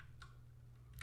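A couple of quick, soft keystrokes on a computer keyboard tap out faintly over a low steady hum, spaced apart rather than in a continuous run.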